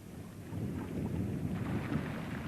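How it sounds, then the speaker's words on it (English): Summer thunderstorm building over mountain passes, a steady low rumble of distant thunder mixed with rain noise, continuous and moderately loud without voices. "a fierce summer storm is building up."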